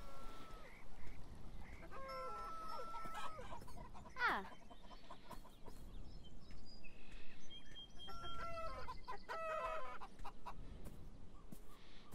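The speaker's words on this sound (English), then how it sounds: "Chickens!" Chickens cluck in a farmyard pen in the game Beyond Eyes, a busy scatter of short calls and a sharp squawk near the middle, over steady ambient sound.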